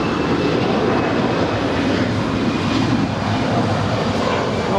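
An Allegiant Air Airbus A319 jet departing LAX, a steady broadband roar of jet engines at moderate distance, a constant rushing wash without talk.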